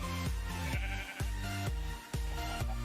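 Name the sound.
sheep bleating in the video game Minecraft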